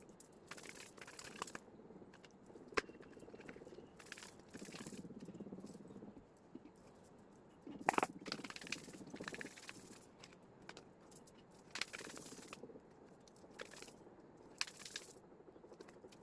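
A tarot card deck is shuffled by hand in quiet, intermittent bursts of papery riffling and soft slaps, close and faint, with pauses between passes.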